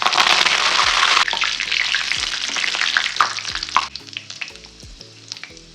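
Curry leaves, fennel seeds and two dried chillies hitting hot oil with a loud spattering crackle that eases into softer frying, with spatula scrapes and taps toward the end.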